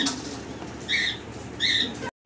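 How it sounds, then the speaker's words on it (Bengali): A deshi golla pigeon cooing nearby, two short tonal coos spaced apart over faint background hum. "দেশি গোল্লা কবুতর"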